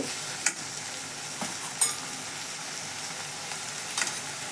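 Egg mixture seasoned with salt, chili powder and turmeric is stirred in a bowl. Soft, sparse scraping taps sit over a faint steady hiss, with no talk.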